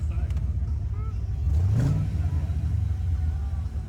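An LS-swapped C4 Corvette idles with a low rumble at a Caffeine & Octane car meet, then briefly revs up and settles back, while people chat nearby.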